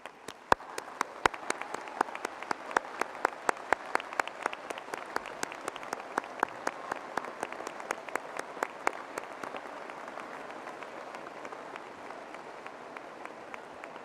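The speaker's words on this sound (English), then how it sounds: "give both groups a round of applause" Scattered applause at a graduation commencement ceremony, with sharp individual claps standing out, building into steady clapping from a group, then easing off toward the end.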